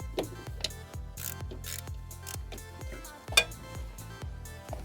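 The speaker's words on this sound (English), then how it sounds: "you just want to remove the rest of this bolt from the fixing in the inlet manifold" A ratchet works a bolt out of the inlet manifold on a TFSI engine, giving a steady run of quick metallic clicks in a regular rhythm, close and moderately loud, with one sharper clank partway through.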